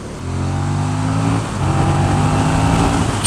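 A KTM Super Duke 1290 R motorcycle accelerating hard, its loud, close engine note climbing in pitch, dipping briefly at a shift, then pulling strongly again.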